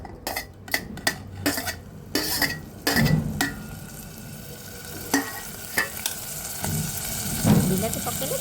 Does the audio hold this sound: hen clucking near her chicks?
no